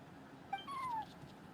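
A single cat meow in a moon-festival video game, a clear rising-then-falling cry of about half a second over quiet background, alone without talk.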